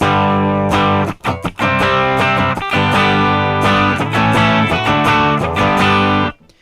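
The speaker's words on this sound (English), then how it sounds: "you can hear that I have control over how much distortion is in the signal" A heavily distorted electric guitar plays loud, thick chords with a few short stops, continuous and close for several seconds.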